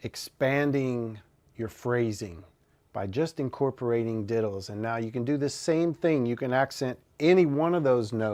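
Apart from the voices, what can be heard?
No distinct noise like a dog, phone or traffic.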